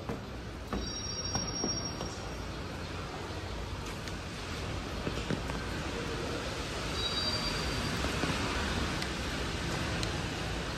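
A train rolls along a railway line overhead while the listener stands in a damp tunnel beneath, a broad steady rumble with faint wheel squeal, sustained and fairly loud throughout.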